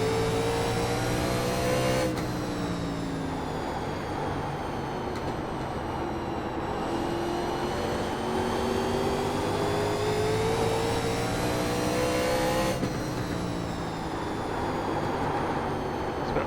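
Race car engines in an iRacing NASCAR 1987 Legends race at Nashville Fairgrounds, a loud sustained roar whose pitch climbs and drops through gear shifts as the cars run the straight.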